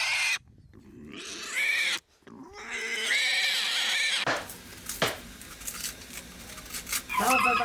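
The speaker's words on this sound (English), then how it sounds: "Tonight we're going to slaughter the pig." A farm pig kept for slaughter squeals and grunts at close range in repeated loud bursts, with brief silent gaps and rustling handling noise between cries.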